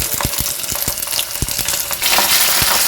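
Ginger, garlic and cumin paste hitting hot oil in a pan and being stirred, giving a steady, loud sizzle with periodic scraping strokes from the stirring utensil.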